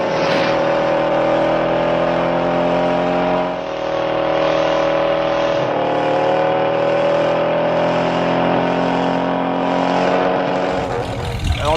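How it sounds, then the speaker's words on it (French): A Ford Mustang styled after the Bullitt film car revs loudly and drives steadily up close, its engine drone holding for the whole stretch with a brief dip midway and another rise near the end. "On va faire un petit tour en Mustang."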